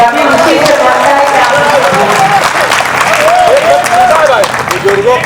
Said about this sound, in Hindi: देखिए पहले तालियां जोरदार बजाइए